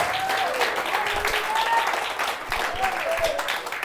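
A church congregation claps steadily in sustained applause, with a voice speaking over it and crowd noise beneath.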